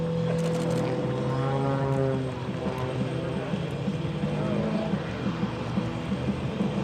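A propeller aerobatic plane at an airshow flies past on a slowed photo pass, its engine drone loud and steady with a pitch that shifts as it passes, then settles into a continuous rumble.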